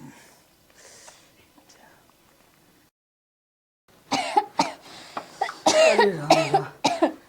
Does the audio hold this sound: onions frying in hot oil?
no